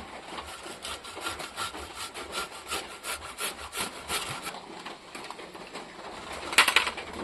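Tomato rubbed on a grinding stone in a village kitchen, a steady series of rhythmic rasping strokes, fairly close, with a brief sharp sound near the end.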